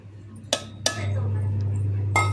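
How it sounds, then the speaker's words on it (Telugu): Raw garlic cloves, fresh coconut, onion, peanuts and green chillies go into a mixer jar for coconut chutney, giving three sharp clinks spaced across a couple of seconds over a steady low hum. "మిక్సీ గిన్నెలో వేసుకుందాం."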